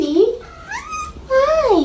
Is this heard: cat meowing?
yes